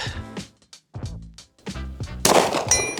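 A Walther PDP Steel Frame pistol fires several sharp, close shots, separated by short pauses, and ends with a bright metallic ring from a hit on a steel plate target.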